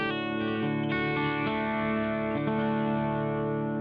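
A Kramer SM-1 electric guitar with EMG pickups plays on its humbucker through an effects patch, sustained chords with chorus and echo ringing out, re-struck a few times, loud and with no voices.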